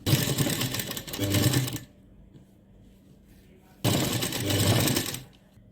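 A sewing machine stitches a blouse in two loud, steady whirring runs of a couple of seconds each, separated by a quiet pause with only faint low hum.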